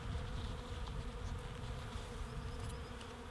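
Honey bees drone steadily at a hive entrance in late winter, a continuous close, dense buzz with no pauses or voices.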